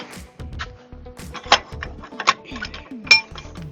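A cap is fitted back onto the chamber of a centrifugal chopper pump and clamped down, giving close metallic clanks, clinks and scrapes in an uneven series, with a few louder knocks among lighter taps.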